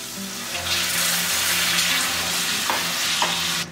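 Sugar and spring water heat in a pan for candied pecans, giving a steady bubbling sizzle with brief stirring scrapes near the end; close and alone, with no voices.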